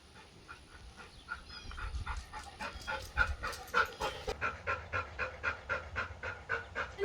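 A dog pants steadily in rapid rhythmic breaths, close and fairly loud, alone with no talk, picking up pace and strength toward the end.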